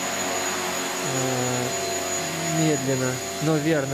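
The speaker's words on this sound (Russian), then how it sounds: "Вертолет висит уже очень долго." A model helicopter hovers steadily in place at an outdoor flying session, its rotor and engine giving a continuous whine whose pitch shifts slightly, with someone speaking briefly over it.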